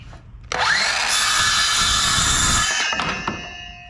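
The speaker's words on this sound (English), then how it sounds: "we're going to cut right through that line with our saw blade" A power saw rips steadily through a 2 by 4 foot chalkboard sheet along a marked line, a loud continuous whine lasting about two and a half seconds before winding down with a few light knocks.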